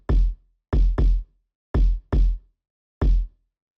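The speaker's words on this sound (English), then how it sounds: "The kick on its own sounds like this." A three-layer kick drum sample hits six times in an uneven pattern, each a deep, punchy thump with a short decay, close and loud against silence.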